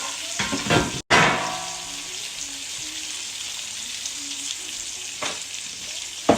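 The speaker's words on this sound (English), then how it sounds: "And then I'm just going to throw that right in the pan and that right in the pan." Salmon fillets are laid into a hot pan and fry with a steady, close sizzle. A sharp clatter comes near the start, and bursts of spitting follow.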